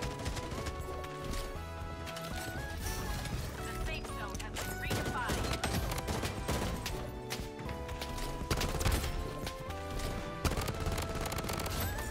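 Rapid gunfire from the Bloodstrike shooter game, bursts of shots and impacts layered continuously over a dense, loud mix of game music and effects throughout.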